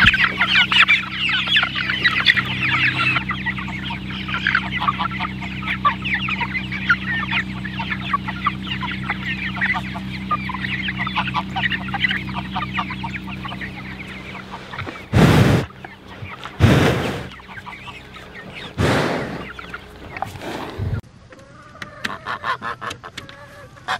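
Guinea fowl and chickens in a farm coop, busy chattering clucks and calls filling the first stretch, then a few loud bangs and scattered clucks further on, fairly close.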